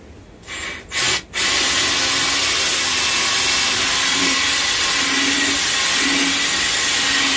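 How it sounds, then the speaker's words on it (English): A power drill whirs continuously, boring a hole through a wooden hiking stick after a couple of brief starts, a steady close grinding drone with faint tonal hum underneath. "I'm going to drill a hole kind of close to the top all the way through"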